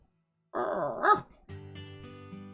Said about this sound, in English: Boone gives you a happy bark as he nuzzles up against your legs.